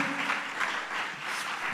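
Congregation clapping in a church during a Christian sermon, a dense steady wash of many hands applauding close by, sustained and even throughout the short stretch.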